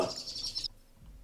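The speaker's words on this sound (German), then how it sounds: "War ein Vogel. Mein Fenster ist offen." A bird calling through an open window, a short high whistled call heard faintly from outside, then a quiet room.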